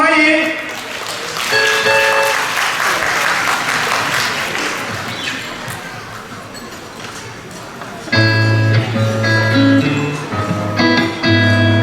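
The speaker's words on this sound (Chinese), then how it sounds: "热烈掌声欢迎" Audience applause welcoming performers at a church thanksgiving banquet, a broad clapping wash with voices and a host talking over it, followed by a musical instrument starting up.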